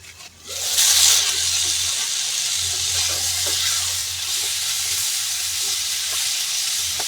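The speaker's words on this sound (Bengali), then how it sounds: "দেখি আর একটু সবজিটা নেড়ে দিই" Chopped vegetables stirred as they fry in a pan, a close, steady sizzle with scraping stirs and a brief louder burst near the start, no voices.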